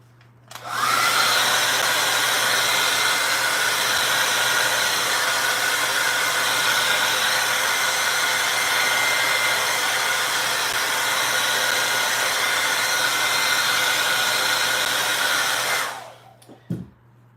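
A hair dryer blows steadily on wet acrylic paint on a canvas of a Sphynx cat, a loud, constant rushing roar close by that runs unbroken for about fifteen seconds before switching off.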